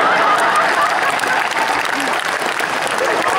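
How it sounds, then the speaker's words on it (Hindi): A large student audience at a college festival poetry recital claps steadily throughout, a dense, loud wash of applause with faint voices mixed in. "ताली तो आप इस बात पर बजाएंगे"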